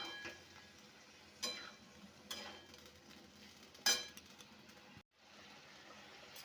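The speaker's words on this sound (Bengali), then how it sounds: "দিয়ে খুব ভালোভাবে কষাবো।" Potatoes stir-fried in goat fat with a splash of water, a low steady sizzle broken by a few sharp scraping strokes of a spoon against the pan, then briefly falling quiet near the end.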